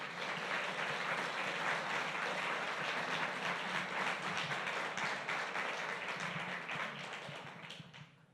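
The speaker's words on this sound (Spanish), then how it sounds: "Denle un fuerte aplauso al Señor por eso." A church congregation applauding during a sermon, dense continuous clapping from many hands that holds steady, then tapers and fades at the end.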